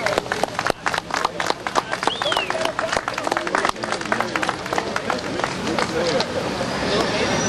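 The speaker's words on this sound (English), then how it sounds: "why don't they give them a round of applause?" Applause and cheering from a crowd at an outdoor rally, a dense, crackling spread of clapping with shouts and voices throughout, sustained and moderately loud.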